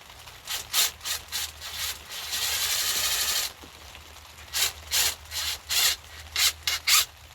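A reciprocating saw cuts through material in a series of rhythmic rasping strokes, with one longer continuous burst in the middle, close and fairly loud.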